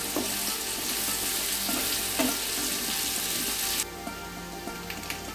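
Chopped onion and garlic cook in hot oil with dried red chillies, giving a steady, close sizzle that runs unbroken. Faint scrapes from stirring come through, and the frying softens slightly toward the end.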